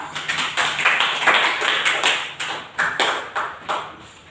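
Students in a classroom clap their hands together in a patterned rhythm, a series of sharp, close claps in groups with short pauses between.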